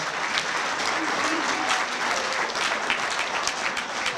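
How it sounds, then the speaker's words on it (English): A banquet crowd at a high school football awards night claps for two line coaches, a continuous dense round of applause that holds steady for the whole stretch. "Let's give them a round of applause"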